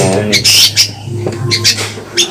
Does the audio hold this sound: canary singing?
yes